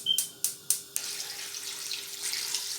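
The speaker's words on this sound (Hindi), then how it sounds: "अब इसमें मैं 1-2 जग पानी के डाल के अभी फुल फ्लेम पे रखूँगी।" Water running from a tap into a pan to boil lamb trotters in a home kitchen, opening with three short splashy bursts and then a steady rushing pour lasting about two seconds, close and moderately loud with no talking.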